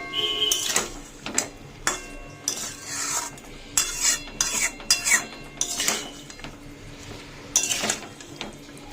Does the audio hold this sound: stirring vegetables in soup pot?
yes